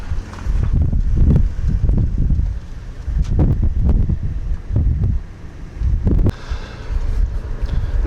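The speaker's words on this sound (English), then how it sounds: "the wind fairly blows" Strong wind on a peninsula gusts into the microphone as heavy low rumbling buffets in irregular bursts, loud and close, with no talking.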